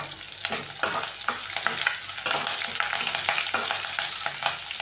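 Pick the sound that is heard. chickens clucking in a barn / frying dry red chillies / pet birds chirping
frying dry red chillies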